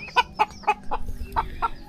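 Several native Tagalog chickens cluck in short, regular bursts close by over a low background rumble, without any obvious crow.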